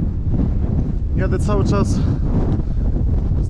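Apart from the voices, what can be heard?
strong coastal wind blowing into microphone while cycling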